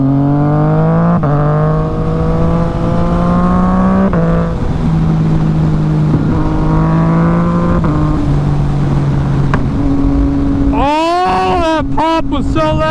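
Yamaha MT-09 motorcycle engine revving, a loud harmonic engine note that climbs and drops in repeated blips, ending in sharp high revs, with a voice speaking over parts of it.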